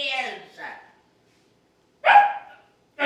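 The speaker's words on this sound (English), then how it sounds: "It's just that my dog Max here is a bit frisky today" A frisky dog barks in short, sharp bursts, two quick barks, then a pause before another bark, close and fairly loud.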